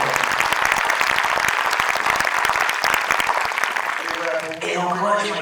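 A studio audience applauds in steady, dense clapping for about four seconds, fairly loud, before it fades and a voice begins speaking.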